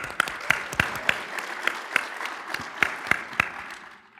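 Audience applause greets a guest arriving for a live chat session, a mix of scattered sharp individual claps standing out over a softer background patter, tapering near the end.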